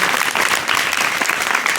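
Thunderous applause from the crowd at a primary school tree-planting event in Chorvad, dense and loud hand clapping that stays steady from start to finish.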